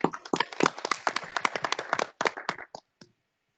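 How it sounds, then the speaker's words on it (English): Scattered hand claps from a small audience at a 4-H youth congress session, brisk and uneven, that thin out and stop after about three seconds. "Please give a round of applause for these outstanding individuals."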